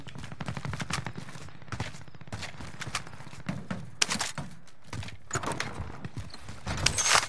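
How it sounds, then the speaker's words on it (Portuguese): Gunfire in a multiplayer shooter video game: sharp, rapid shots crack out in irregular bursts, some close and punchy and others more distant, with no talking over them. "Estou a levar tiros dali"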